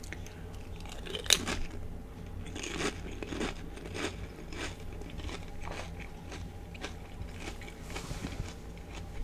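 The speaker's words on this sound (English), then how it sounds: "Oh, so sorry if you hear crunching." Someone eats a crunchy snack close to the microphone, with repeated crisp bites and chewing crunches in an irregular rhythm over quiet background noise.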